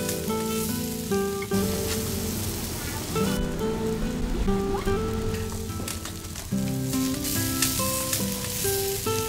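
Marinated pork grilling over charcoal hisses and sizzles steadily throughout, a dense crackling spatter layered over background music.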